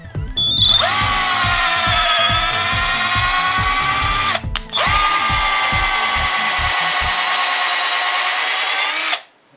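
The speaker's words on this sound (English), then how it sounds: "so let's drill the smaller hole." A loud power drill whines steadily as it bores a hole for a car hood spacer install, pausing briefly once before spinning down at the end.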